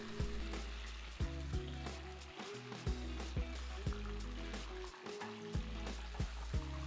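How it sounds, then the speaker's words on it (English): Shrimp frying in about a cup of oil heated to roughly 300 °F in a deep pan, a steady loud sizzle with intermittent sharp stirring scrapes and spatters, close up and continuous. "When the oil heats up to about 300 Fahrenheit, drop in the shrimp."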